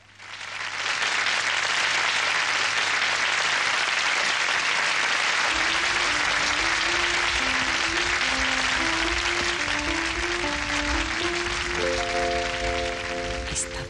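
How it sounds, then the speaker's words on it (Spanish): A live audience applauds to welcome a singer onto the stage, steady dense clapping that continues throughout while music enters partway and plays beneath it. "La vamos a recibir con un gran aplauso"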